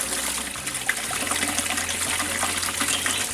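Steady pouring water into an aquarium through a pot over soil, a continuous gushing trickle with a faint low hum underneath.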